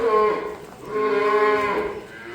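Friesian cattle mooing close by, two long, loud harmonic moos in quick succession with a brief dip between them and no other sounds.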